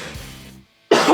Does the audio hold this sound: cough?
yes